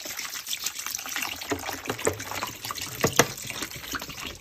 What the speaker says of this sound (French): Et on rajoute l'eau.